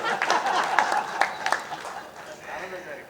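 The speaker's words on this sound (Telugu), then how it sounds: "చప్పట్లు కొట్టండి మీరు సార్కి." Audience clapping at a Telugu book release event honoring poet Suddala Hanumanthu, a short burst of applause rising and fading over about three seconds, mixed with voices and a few chuckles in the hall.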